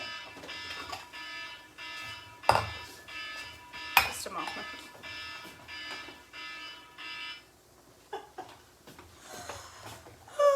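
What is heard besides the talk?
alarm going off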